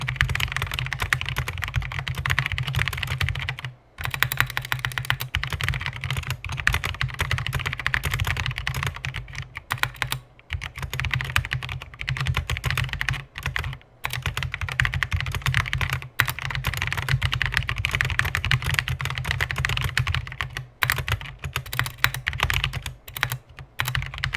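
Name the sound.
typing on Noppoo Lolita mechanical keyboard with Spyder switches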